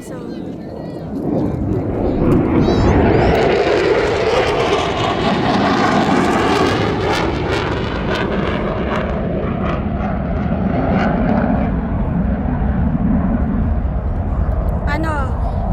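Airplanes at the Abbotsford Airshow roar overhead, a loud engine drone that swells, sweeps past and slowly fades into the distance, with people talking underneath.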